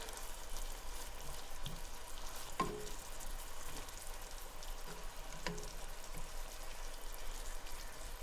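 Onions and celery soften in a pot for beef stew, a quiet, even background sizzle with two brief knocks of a spoon against the pot.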